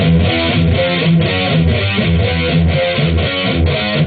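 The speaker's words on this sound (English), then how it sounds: "power chords on the 5th string with that E palm muted in the middle" Chugging electric guitar riff, palm-muted power chords on the fifth string with the low E muted between, played in a steady rhythmic pattern with no voices.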